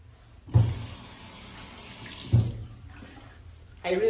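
Tap water runs steadily into a sink as hands are rinsed, with two brief louder splashes and a faint hiss of flow throughout, close by.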